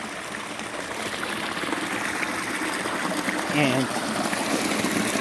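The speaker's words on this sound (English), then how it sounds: "I'm gonna give you a quick look about this creek, which is beautiful at night." A creek flowing at night, a steady close trickle and burble of running water throughout, with a voice briefly speaking over it near the end.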